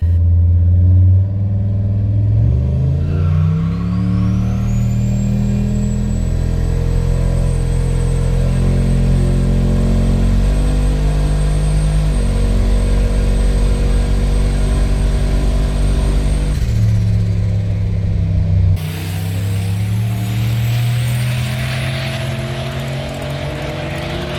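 Twin-turbo Honda-engined drag car making a full-throttle drag strip pass after a fuel pump upgrade, loud continuous engine roar climbing through several gear changes with a high turbo whistle above it, then lifting off and winding down.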